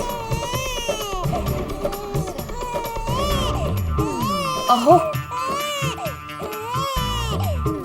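An infant cries loudly and steadily in a domestic sitcom scene, the wails repeating in rising, breaking bursts while adults talk over it.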